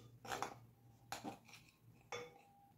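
A utensil clinks and scrapes against a bowl while potato bread dough is mixed with butter and milk, giving three soft, close bursts of knocking at intervals in a quiet kitchen.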